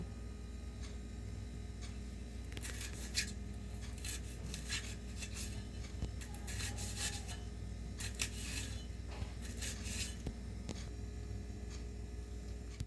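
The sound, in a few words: slitting green chillies with a knife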